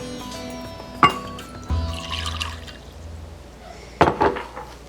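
Warm water is poured for a coffee liqueur and instant espresso soak for ladyfingers in a tiramisu cheesecake. A few short splashes trickle close by, broken by glassy clinks.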